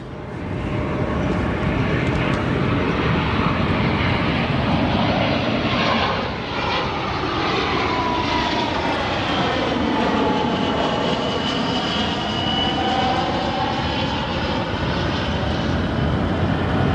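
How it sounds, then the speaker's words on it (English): A Spirit Airlines Airbus A319 jet arriving at O'Hare airport roars loudly and steadily. The broadband engine noise shifts in pitch as the aircraft passes close by. "Our next arrival, another banana bus, Spirit Airlines A319 from Miami."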